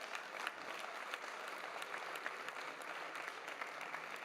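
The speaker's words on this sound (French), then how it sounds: "Vous pouvez l'applaudir." Applause fills a regional council session in the Île-de-France assembly, a steady round of clapping from many hands, moderately distant and even, lasting a few seconds with no talk over it.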